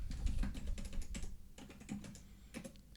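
Fingers tap a computer keyboard in quick, uneven bursts of light clicks, close up and fairly quiet, with no talking.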